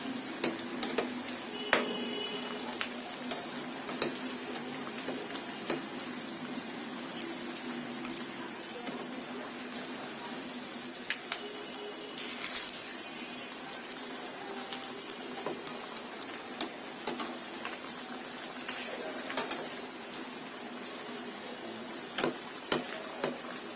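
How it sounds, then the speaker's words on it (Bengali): Homemade snacks fry slowly in a pan over low heat, both sides browning. A soft, steady crackle and sizzle runs throughout, with scattered sharper pops and a few faint clinks against the pan. "দুইটা পাশে আমি ভালো করে ভেজে নিয়েছি"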